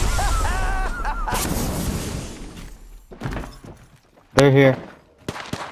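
Gunfire in the video game Apex Legends comes as scattered sharp cracks and heavy bursts of varying loudness, mixed with game effects, while a voice speaks briefly over them.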